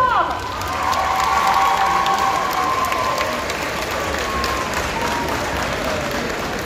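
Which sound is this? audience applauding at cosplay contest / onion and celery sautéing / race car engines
audience applauding at cosplay contest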